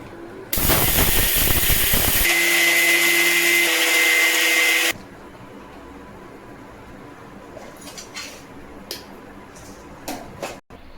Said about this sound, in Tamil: இப்போ பெரிய மிக்சி ஜாரில் போட்டு இதை அரைச்சிக்குவோம்